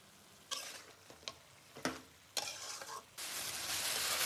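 Chicken with drumsticks and green chillies sizzles in a pan while being stirred, giving sharp scraping bursts of stirring over a steady frying hiss that grows louder toward the end.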